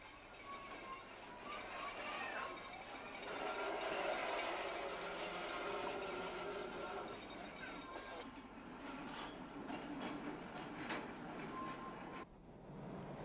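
Narrow-gauge tram running along the Seaton tramway on a former railway branch in Devon, a quiet steady rumble of wheels and motor with faint rhythmic clatter, ending in an abrupt drop.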